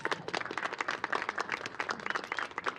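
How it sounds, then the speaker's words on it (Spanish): An audience at a lecture applauds a speaker, a dense patter of many hands clapping at moderate volume from a room, steady and unbroken for a few seconds. "Un aplauso para Paola."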